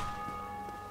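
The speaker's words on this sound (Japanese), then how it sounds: "鐘が鳴ってんね" Church bell ringing in the video game Dark Souls Remastered, a sustained, resonant tolling tone that hangs steadily throughout, fairly faint and distant, with soft footstep-like thuds underneath.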